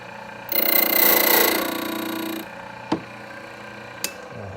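Framon code machine cutting a key blank: a loud, steady high-pitched grinding whir for about two seconds that fades, followed by two sharp clicks.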